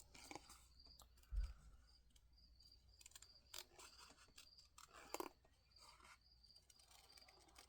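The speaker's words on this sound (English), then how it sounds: "So, fussy cut time." Scissors fussy cutting paper for a craft project, producing sparse, faint snips and rustles scattered among soft handling noises, with one slightly louder click near the start.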